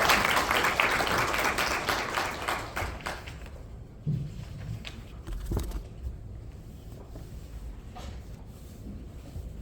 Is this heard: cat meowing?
no